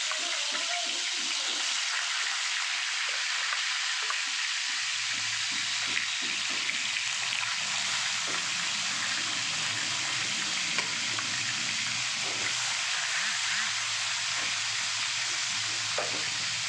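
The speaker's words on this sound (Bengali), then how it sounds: "মাছগুলোকে খুব সুন্দর করে হালকা করে ভাজা করে নিতে হবে" Katla fish pieces fry in hot mustard oil with a loud, steady, crackling sizzle that runs unbroken throughout, close up, with faint stirring underneath.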